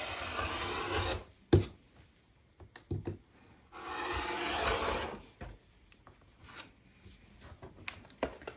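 Quilt block fabric edges are trimmed with a cutter on a mat, heard as two long, close rasping cuts separated by sharp taps and light handling rustles.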